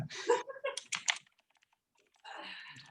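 Typing on a computer keyboard during a talk about women in agile organizations: soft, quick key taps at low level, mixed with and following brief speech, fairly close.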